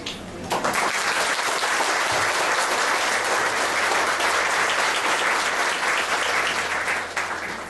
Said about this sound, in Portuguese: Palmas por Ramon.